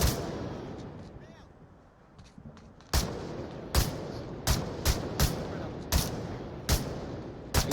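Flashbang grenades and gunfire in the VR shooter Onward go off as a run of sharp, loud cracks, about eight evenly spaced bursts after a quieter opening with background noise.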